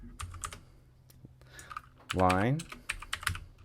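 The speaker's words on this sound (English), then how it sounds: "So I'm just typing that in." Computer keyboard typing while entering dimension values in Rhino 3D software, a scattered run of close key clicks with someone speaking over part of it.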